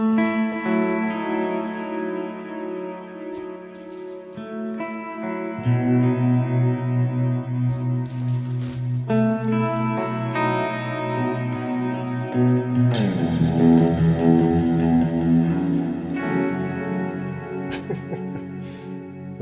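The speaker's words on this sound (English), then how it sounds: "That's just the RC booster and the Univibe into the clean channel." Electric guitar run through an RC Booster and a Univibe pedal into an amp's clean channel, a warm, swirling, chorus-like tone over a series of chords and melodic phrases, played steadily and clearly with no talking.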